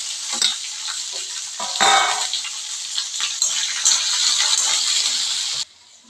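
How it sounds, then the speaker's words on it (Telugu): Capsicum frying in a pan makes a loud, close, hissing sizzle with a few clinks of stirring. It runs steadily and then cuts off abruptly near the end. "క్యాప్సికమ్ బాగా ఫ్రై కావాలి అప్పుడు బాగుంటుంది"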